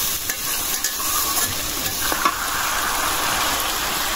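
Eggplant and fish curry are stirred and sautéed in a hot pan, giving a steady, close sizzle with occasional scraping of the spatula and no talking.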